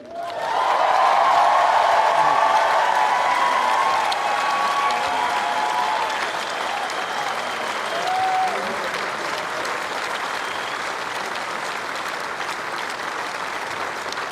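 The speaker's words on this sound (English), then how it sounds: "So, the warmest applause for the two players" A large tennis crowd gives Isner and Mahut a warm, sustained ovation after their 11-hour match, dense applause with a few cheers rising at first, then settling into a steady, slightly softer roar of clapping.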